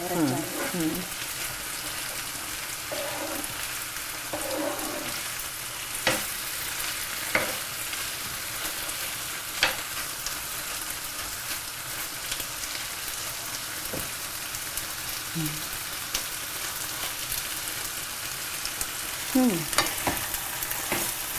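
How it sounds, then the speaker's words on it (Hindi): Masala-coated Punjabi chickpeas fry and sizzle steadily in a pan while a spoon stirs and scrapes in occasional knocks, with brief speech early on. "अब इनको 2 या 5 मिनट तक आप इसी तरह से भूनते रहें, ताकि मसाला जो है वो सारा इसके अंदर रच जाए।"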